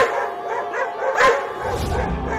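Two cartoon dogs bark and yip in quick, high-pitched bursts, loud and close, with a sharper yelp near the middle and a low rumbling tail at the end.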